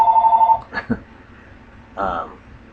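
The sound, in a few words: telephone ringing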